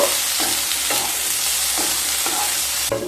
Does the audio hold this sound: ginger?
yes